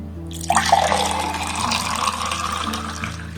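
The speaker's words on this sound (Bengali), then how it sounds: "এবার দিয়ে দেবো জল।" Water is poured into a lemon juice drink, starting with a sudden splash and then settling into a steady, close running stream that continues to the end.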